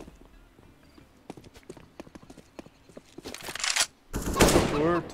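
Video game gunfire in a competitive shooter match: scattered sharp clicks and shots build into a dense, loud burst of rapid fire near the end, with a short silence just before it.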